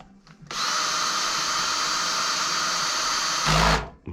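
A Parkside power drill runs at a steady high-pitched whine for about three seconds, close and loud, then revs briefly harder and stops.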